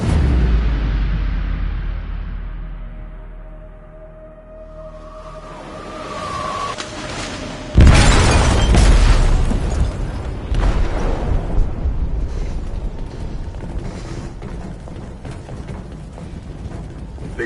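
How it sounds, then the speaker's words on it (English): An explosive detonates in a ship's hold in the video game Detroit: Become Human: a sudden deep boom breaks out of a low rumble, followed by a sustained roaring, crackling wash of noise. "detonated an explosive in the hold"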